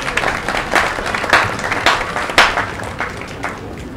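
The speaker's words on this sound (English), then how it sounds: "Let us all clap for the president." Scattered crowd clapping for the president at a Methodist church funeral in Ghana, uneven and loosely rhythmic, with individual louder claps standing out above a thinner patter.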